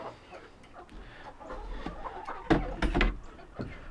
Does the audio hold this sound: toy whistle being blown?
no